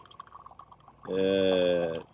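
Clean filtered water pours from a bucket filter's outlet into a bottle at low pressure, a steady close splashing stream that starts abruptly after a quiet lead-in and runs evenly to the end.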